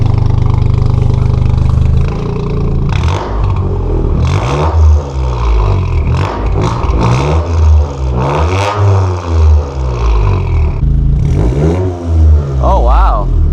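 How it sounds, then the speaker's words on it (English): A Toyota GR Corolla engine fitted with a new downpipe is revved hard in repeated close, loud bursts with rising and falling pitch, while people talk over it. "Rev this, John."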